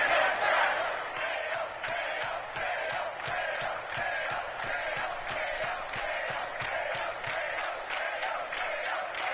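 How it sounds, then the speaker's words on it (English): A stadium crowd in Madden 23 chants and cheers in a steady rhythmic roar, punctuated by regular stomping or clapping beats, loud and continuous throughout. "You hear this crowd, so don't let them down."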